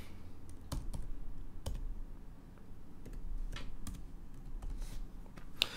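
Light, irregular clicking of keys on a computer keyboard as a password is typed, scattered quiet taps close by over a soft background hum, with no talk.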